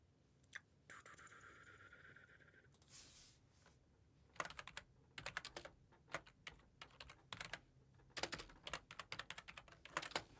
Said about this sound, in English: This new keyboard is loud.